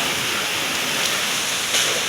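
Heavy rain and strong wind in Bacolod, a dense steady roar of broadband noise that stays loud and unbroken throughout, with a slight surge near the end and no voices.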